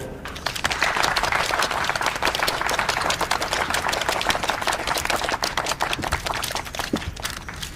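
Steady, loud applause from a crowd at a charity banquet welcoming the company president on stage, dense clapping sustained without a break.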